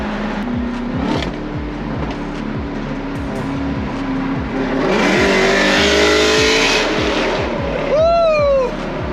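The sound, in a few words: Jeep Trackhawk accelerating hard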